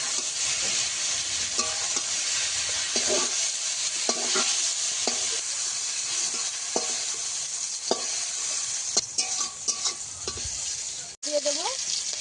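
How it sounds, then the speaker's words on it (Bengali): Sliced ridge gourd fries in oil in a pan with a steady sizzle, broken by irregular scraping and stirring clatters from a utensil, close and moderately loud. "ঝিঙেটা ঠিক এইভাবে আমি ভেজে নিয়েছি, এইভাবে ভেজে নিতে হবে।"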